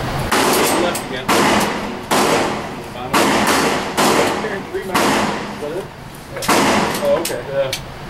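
Gunshots at an indoor gun range, a steady series of loud, booming reports roughly one per second, each with a long echoing decay, while people talk nearby.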